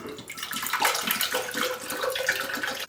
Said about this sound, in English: Usually fill up the shaker as much as I can with water.